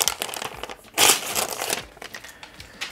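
Protective plastic film peeled from a new Asus Zenfone 11 Ultra in Skyline Blue during unboxing, heard as close, loud crinkling and crackling bursts in an irregular rhythm, with no talk.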